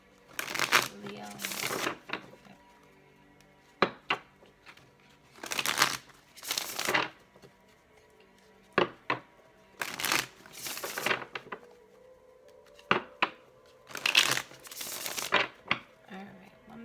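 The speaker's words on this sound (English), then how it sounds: "Alright, one more shuffle, we'll get started." Tarot cards being shuffled by hand in repeated bursts of crisp riffling and flapping, separated by short pauses, close and fairly quiet.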